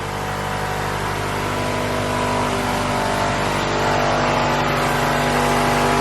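A Honda B18 engine runs with newly fitted fuel injectors, giving a loud, steady idle rumble with a busy mechanical ticking layered over it throughout, close up and without any talking.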